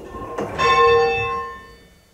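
A single church bell struck once, ringing out clearly and close with a bright metallic strike and a long, shimmering hum that slowly decays.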